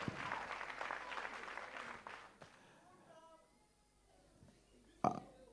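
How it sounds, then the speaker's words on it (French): Audience applause in a hall at a quarter-final talent contest, a broad burst of clapping at the start that fades away after about two seconds, leaving quiet room sound and a brief sharp noise near the end. "Applaudissez pour lui."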